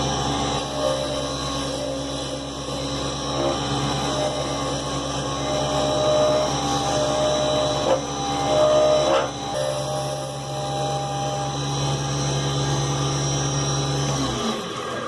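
A wood lathe spins an ash pen blank with a steady, loud motor drone and a faint whir, running evenly throughout before cutting off at the end.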